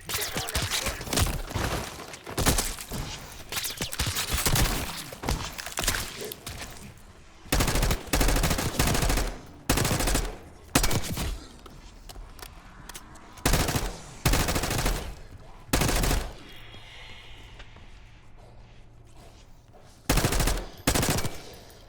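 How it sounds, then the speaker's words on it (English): Bursts of rapid automatic gunfire crackle in short volleys with pauses between, loud and echoing, mixed with single shots, in the video game Call of Duty: Black Ops 6. "You hearing gunfire?"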